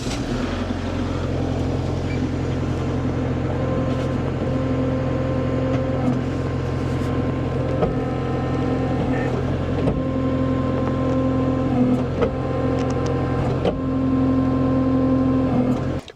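A Kubota L4760 tractor idles steadily and loudly up close while its hydraulic top link is tested, a constant engine drone with slight shifts in tone and no talk.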